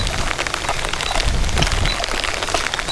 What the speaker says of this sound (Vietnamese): trời đang còn mưa nè